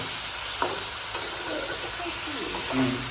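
Chicken pieces with liver and gizzard fry in a pan, giving a steady broadband sizzle with occasional scrape-like stirring clicks throughout, fairly close and continuous with no speech.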